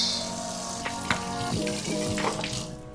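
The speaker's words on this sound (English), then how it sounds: "I'm gonna take these onions off because they're starting to crisp up" Onions frying and crisping up in a pan while a steak sandwich is made, a steady close sizzle with a few soft clicks and scrapes over an even background hum.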